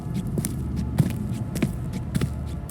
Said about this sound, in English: I felt my heart beat faster.